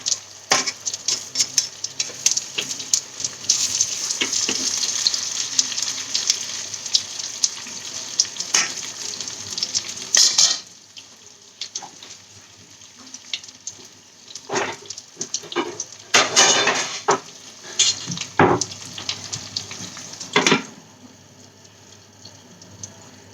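An omelette frying in a pan, with steady crackling sizzle and scattered pops and clinks of utensils, dropping quieter midway before further bursts.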